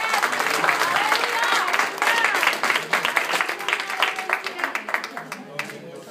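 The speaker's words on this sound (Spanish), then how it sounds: "Denle un fuerte aplauso al Señor." A church congregation claps loudly and continuously in a dense wash of applause that thins into scattered claps near the end, with voices calling out over it.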